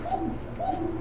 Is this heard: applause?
no